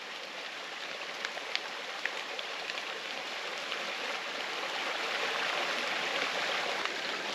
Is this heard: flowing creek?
yes